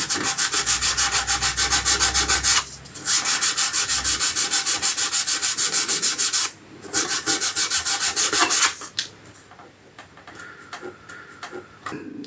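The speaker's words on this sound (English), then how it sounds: "Looks like I'm sanding pink into the adhesive and making it worse." Sanding adhesive on the front panel of a 1968 Astor M6-D transistor radio: rapid rhythmic back-and-forth rasping strokes in several loud bursts, separated by brief pauses, close up and without talk.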